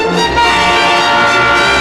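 Train horn sounding loud and sustained with rich layered tones over a rumbling rail background, close and continuous with no talk.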